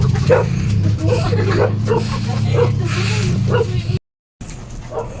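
A dog barks and yips repeatedly in short bursts behind steady talking, with a low constant hum underneath, in a home kitchen setting, before a brief dropout.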